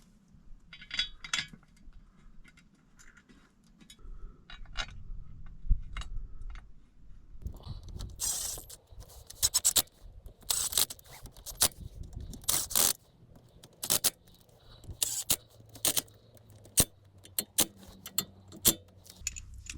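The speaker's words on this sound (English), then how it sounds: "now I gotta put our rough country diff skid on using the supplied bolts" A Rough Country diff skid being bolted onto a Jeep Dana 30 axle, with close metallic clinks, rattles and ratchet-like clicks in irregular bursts. The sharp hits grow denser in the second half.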